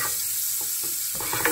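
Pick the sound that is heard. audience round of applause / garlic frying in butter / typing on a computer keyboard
garlic frying in butter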